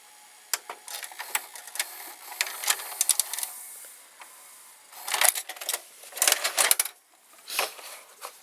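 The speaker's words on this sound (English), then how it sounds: "And so let's eject the cassette." RCA VR535 VCR mechanism whirring and clicking in bursts of small motor and gear noises as it ejects a cassette, close and fairly quiet with no talking.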